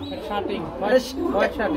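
Pigeons, white-blue shirting breed, on a farm give soft, low, repeated cooing, mixed in with a person talking nearby.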